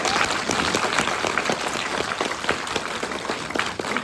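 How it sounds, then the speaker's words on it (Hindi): Loud, sustained applause from an audience at a seminar in Botad, Gujarat, many hands clapping densely and evenly with no talk over it. "ताली जोरदार वाली बजाइए"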